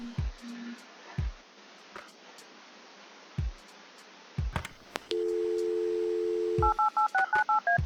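A room phone in the video game Kathy Rain dials an external line. Scattered clicks give way to a steady tone, then a quick string of distinct keypad beeps at close range.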